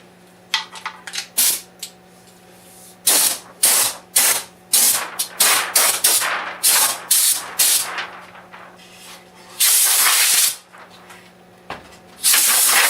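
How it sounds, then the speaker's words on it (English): Short bursts of compressed air blow dust off a wooden ball setter during finishing, coming as a series of sharp, close hissing blasts with brief pauses between them and a longer spray near the end. "Take some air and blow it off."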